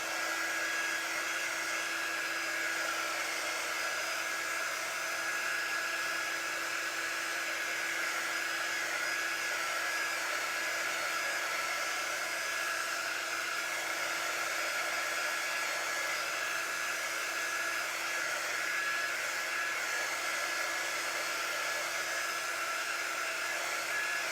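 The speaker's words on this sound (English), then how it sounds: "heat tool from Magnolia, and I'm going to dry this a little bit" A Magnolia heat tool blowing hot air over wet chalk paste on a craft piece, a steady, loud fan whir with a constant whine that runs unbroken throughout, no voices.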